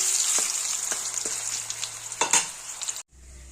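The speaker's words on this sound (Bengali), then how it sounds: "আলু ভাজা হয়ে গেছে" Potatoes fry in hot oil seasoned with whole cumin, giving a steady close sizzle broken by a few scrape-like stirring clicks, then it cuts off abruptly near the end.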